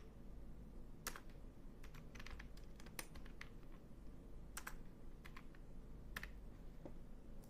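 Steady typing on a computer keyboard while entering a name in an online banner design tool, with soft continuous key clicks and a few sharper, louder taps spread through, no talking.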